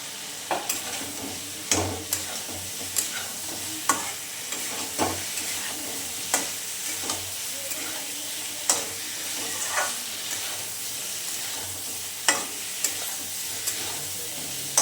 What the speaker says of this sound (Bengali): এবারে আমি এর মধ্যে ইউজ করবো হচ্ছে বেগুনটা দিয়ে দিলাম, দিয়ে ভালো করে এটা কষিয়ে নেব।